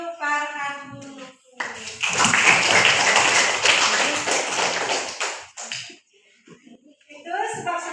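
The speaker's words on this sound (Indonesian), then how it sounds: "Baiklah, kita berikan tepuk tangan untuk Farhan Nurkus." A classroom of pupils claps hands together for a classmate in a loud, dense burst lasting several seconds, with a teacher's voice before and after.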